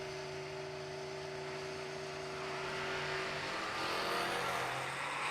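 Turbocharged Ford Mustang at a drag strip, engine roaring loud and steady with a rising harmonic drone that swells and intensifies toward the end, alone with no talk.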